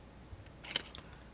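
Paper being cut with scissors while making a card, a short cluster of quiet snips near the middle of a faint, otherwise still moment.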